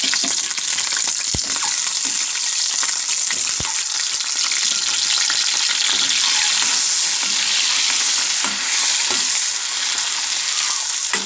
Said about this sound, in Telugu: ఎగ్స్ కొంచెం ఫ్రై అవ్వాలండి.